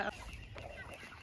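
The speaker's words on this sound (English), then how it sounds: "So we have our Cornish Cross roosters" Cornish Cross roosters raised on pasture in chicken tractors cluck softly in a short burst, close by and moderately quiet, with no talking over them.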